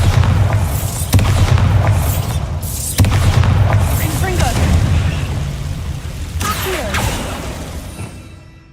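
Bombarda spell explosions in the video game Hogwarts Legacy, cast during a fight in catacombs, give loud booming blasts with whooshing tails and rumbling debris, several in a row that fade out at the end.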